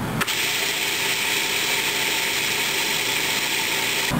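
A food processor runs continuously while blending raw not-tuna pâté with added water, giving a loud, even motor drone with a high whine that starts abruptly and holds steady.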